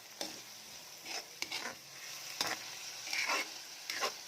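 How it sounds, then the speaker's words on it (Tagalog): Stirring ingredients with a little oil in a cooking pan: soft scraping strokes of a utensil repeating every second or so over a faint, steady sizzle, close and quiet, with no talking. "Dagdagan ko ng konting mantika guys. Ayan, konti lang. So, haluin natin maigi."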